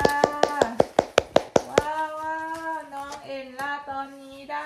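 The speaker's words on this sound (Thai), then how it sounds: "ปรบมือให้ตัวเองด้วยค่ะ" A toddler claps hands about ten times in a quick, even run of sharp close taps, then stops as an adult voice carries on talking.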